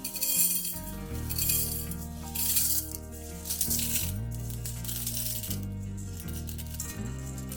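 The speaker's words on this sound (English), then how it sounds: "Put the red beans in a pot." Dry red beans rattle and clink into a pot in short bursts of pattering, heard close but partly under background music.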